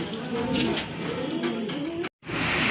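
Round-bodied pigeons for sale give soft, low cooing calls close by in a steady, continuous murmur with a brief drop-out near the end.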